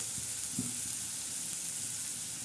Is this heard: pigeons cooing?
no